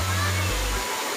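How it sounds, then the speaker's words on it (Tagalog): Daranak Falls gives a brief, steady, broadband rushing roar of falling water, with a low humming tone underneath that fades out partway. "Diyan, sa waterfalls, Darana."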